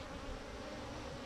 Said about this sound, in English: do you hear that sound? Those are bees that are irritated with us.